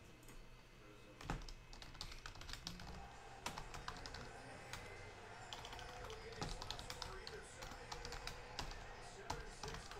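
Rapid computer keyboard typing with many sharp clicks scattered throughout, over a constant background hum, in a room during a sports card box break, with faint talk in the background.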